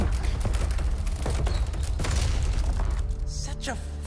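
Rapid gunfire and booms in the video game Resident Evil 4 Remake, loud bursts of shots and impacts repeating throughout, with character voices talking over the action.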